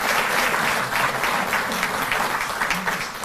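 Loud, sustained applause from an audience at a Delhi government event for farmers whose crops were damaged by unseasonal rain, steady and dense throughout with no speech over it.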